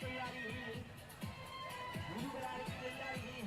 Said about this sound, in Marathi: लाखो भाविक दर्शनाकरता इथं येत असतात आणि अजून दिवसभर ही अशीच गर्दी राहील असा अंदाज आहे